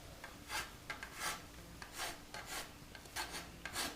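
A wood rasp shapes a hard Ipe bow handle, with steady back-and-forth scraping strokes, each a rough hiss, repeating close up with no talk.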